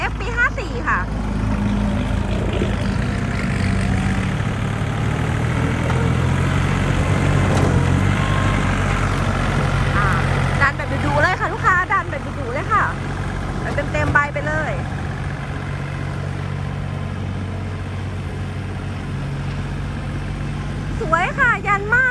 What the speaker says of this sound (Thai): วันนี้แม่ค้าจะพาลูกค้าทุกท่านมาชมวิดีโอการทำงานของรถไถยันมา